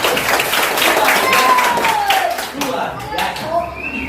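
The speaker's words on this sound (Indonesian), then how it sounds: "Oke, tepuk tangan untuk kita semua." A group claps hands together in a lively burst of applause during a class lesson, the rapid claps fading over a few seconds while voices talk and call out underneath.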